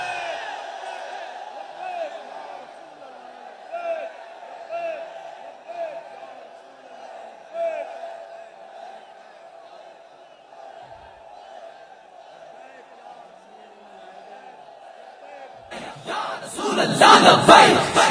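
A large crowd at an Iqbal Day gathering at Iqbal's mausoleum in Lahore erupts loudly in the Labbaik slogan near the end, after a long stretch of a single voice speaking.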